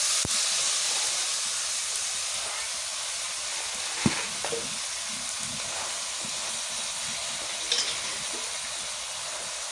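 Leafy greens frying with green chilies in a pan over a wood-fired clay stove in a village kitchen, with a continuous close hiss and sizzle broken by a few soft clinks and stirring knocks.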